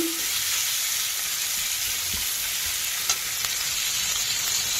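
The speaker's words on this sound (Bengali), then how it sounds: "আর দেবো এটা একদম চিমটি ভর রসুন বাটা দিয়ে আবার একটু নাড়িয়ে নেব" Spices and a pinch of garlic paste fry in a pan, a steady bright sizzle with a few soft scraping stirs near the end, close and without talk.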